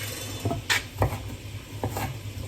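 Sweet potato pieces being stirred in a pot for a salmon and broccoli chowder, a handful of soft clinks and scrapes of a utensil against the pot over a low simmering background.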